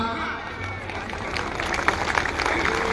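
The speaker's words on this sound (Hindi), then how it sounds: "जोरदार तालियों के साथ" A crowd at an outdoor Sarna religious gathering applauds to welcome a priest, with dense clapping and crowd noise rising over the course of the moment while a voice talks over it.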